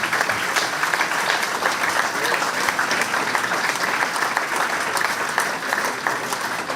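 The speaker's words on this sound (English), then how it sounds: "Massive round of applause for our head coach, Mr. Julian McNulty." Football club supporters at an evening fans' forum give the head coach a loud, sustained round of applause, thick even clapping filling the room from start to finish.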